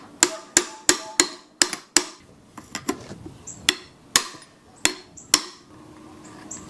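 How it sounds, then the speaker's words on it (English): Sharp metallic hammer strikes drive a carrier bearing off the splines of a Toyota Tundra or Tacoma driveshaft, a dozen or so close, ringing blows in an irregular rhythm with brief pauses, loud and alone. "I'm going to try to drive this bearing off the splines"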